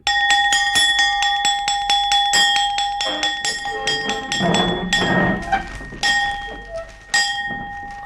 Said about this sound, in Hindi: हमारा हुक्म है आधी छुट्टी की घंटी बजा दी